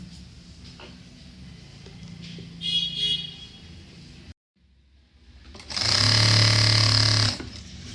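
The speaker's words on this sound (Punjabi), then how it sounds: "ਇੱਥੋਂ ਆਪਾਂ ਸਲਾਈ ਲਗਾ ਕੇ ਦੋਨੋਂ ਪੱਲੇ ਜੋੜ ਲੈਣੇ" A sewing machine stitches the pocket seam of plazo pants in two runs: a short, softer burst, then a sustained, steady whirr after a brief silence.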